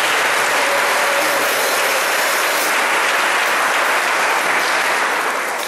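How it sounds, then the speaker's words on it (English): A church congregation claps for the Lord in a loud, sustained burst of dense applause that stays even throughout and tapers slightly at the very end. "Let us give a mighty clap to the Lord."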